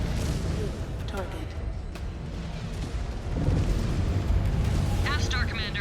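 An enemy mech explodes in MechWarrior 5: Clans, a heavy booming rumble that swells louder midway, with radio-style chatter and electronic warbles over the blast.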